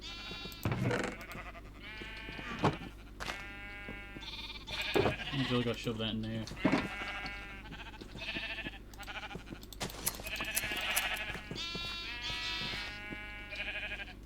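Sheep bleat repeatedly in a Minecraft soundscape while a person talks over them, with layered, wavering cries scattered throughout.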